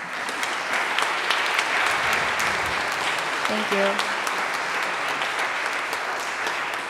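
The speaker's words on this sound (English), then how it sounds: "give a round of applause for my amazing colleagues that are up here on the stage today" Steady applause fills a woodwind quintet recital as the audience honours the performers on stage; the clapping stays even and full throughout while a voice briefly speaks over it near the middle.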